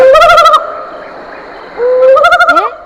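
An owl (kaalan kozhi) calls at dusk, two loud close bursts of rapid quavering hoots separated by a quieter drawn-out tone.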